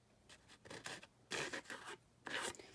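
Short raspy strokes of a hand file against the edges of paper card, in quiet bursts of two or three rubs with brief pauses between them, close and soft.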